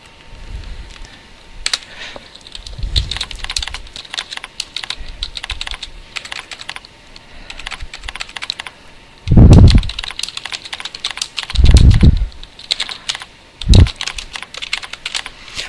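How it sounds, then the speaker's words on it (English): Rapid keyboard typing, close and steady, with a few louder key thumps standing out near the end; no voices. "Once we finish typing our little message"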